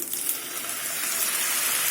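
Pasta cooking water pours steadily into a hot pan of red pasta sauce, a brief continuous rushing splash that sizzles slightly.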